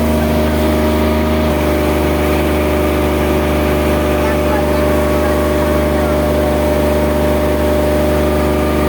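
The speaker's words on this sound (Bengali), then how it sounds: "আবার ছেড়ে দিল আমাদের নৌকা" A motorboat engine drones loudly and steadily throughout on the Mayurakshi River at Massanjore Dam, Jharkhand, with a constant low rumble and no pauses.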